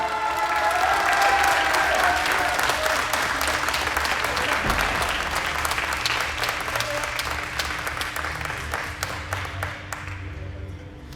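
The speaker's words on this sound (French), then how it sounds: "Applaudissez bien fort Hugo Rabot et Julien Grondin." Audience applause at a tennis tournament prize-giving ceremony, a sustained round of many hands clapping that is loud at first and slowly thins out and fades over about ten seconds.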